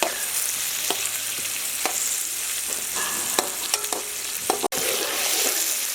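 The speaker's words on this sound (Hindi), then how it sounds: "प्याज को सुनहरा होने तक भून लेंगे।" Finely chopped onions fry in hot oil for a Kabuli chicken pulao, giving a steady close hiss and sizzle with scattered crackles and stirring scrapes throughout.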